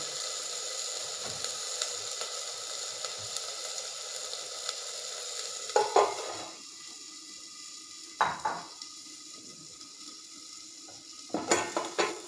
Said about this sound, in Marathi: आता मी हे शेंगा उकडलेल्या शेंगा, बाजरीच्या उकडलेल्या शेंगा मी त्याच्यात टाकून देणार आहे.